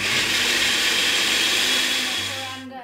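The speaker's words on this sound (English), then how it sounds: "Put the leftover into the blender." A blender whirs loudly and steadily for a few seconds, then winds down and cuts off near the end.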